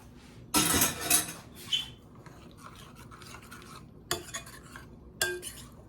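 A spoon scrapes and clinks in a bowl as pecans and cherries are stirred into a pie mixture with mandarin oranges: a few close rasping strokes and light taps, quiet and alone, with pauses between.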